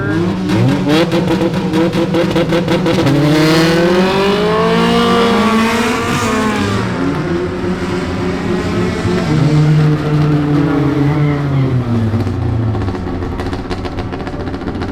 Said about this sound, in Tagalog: they're doing burnouts to clean the tires and also to warm up the tires